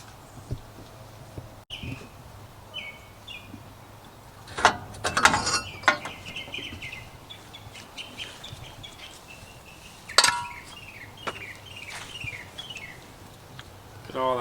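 Wrench and mechanism clatter while the smog pump comes off a 1989 Toyota Land Cruiser FJ62 with its 3FE engine: scattered metallic clanks and ratcheting bursts, close by, with birds chirping faintly in the background.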